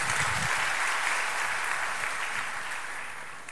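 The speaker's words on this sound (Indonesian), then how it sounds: "Tepuk tangan dong." A crowd claps and applauds steadily, the sound slowly fading over a few seconds.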